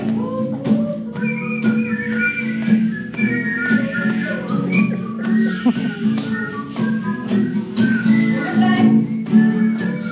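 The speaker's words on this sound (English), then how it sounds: "You guys want to help me just whistle whatever you like?" Several children whistling loosely together inside a converted school bus, overlapping tunes and warbles over a steady low hum of the room.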